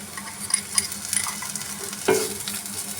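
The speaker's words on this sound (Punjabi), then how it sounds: "ਹੁਣ ਇਹਦੇ ਵਿੱਚ ਇਹ ਦਰਦਰਾ ਕੁੱਟਿਆ ਹੋਇਆ ਲਸਣ ਅਦਰਕ ਇਹਦਾ ਪੇਸਟ ਪਾ ਦਾਂਗੇ" Coarsely pounded garlic and ginger paste frying with onions in a pan, with a steady close sizzle and a few scraping stirs of a utensil.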